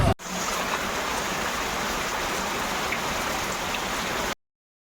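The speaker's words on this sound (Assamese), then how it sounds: "বৰষুণ দি দিলে, পূৰা বৰষুণ তিতি আহিলোঁ" Steady, dense rain pours down, a continuous hiss of drops on surfaces that cuts off abruptly at the end.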